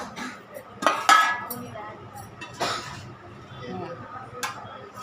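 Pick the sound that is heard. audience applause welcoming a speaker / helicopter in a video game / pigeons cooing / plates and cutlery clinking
plates and cutlery clinking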